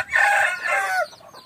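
A hen lets out a loud, drawn-out squawking cluck close by, one sustained call that trails off into quieter clucks.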